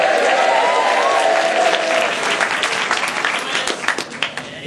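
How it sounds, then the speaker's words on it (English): Sustained audience applause at a T-Factor 2011 show, a dense wash of many hands clapping that fills the whole stretch, with a faint voice and some whoops mixed in near the start. "lovely to hear sympathetic applause"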